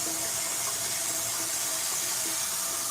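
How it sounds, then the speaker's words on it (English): Water poured from a ladle over hands at a Shinto shrine purification basin, a steady continuous trickle and splash close by, running unbroken throughout with no talking. "And then you first wash your left hand with water."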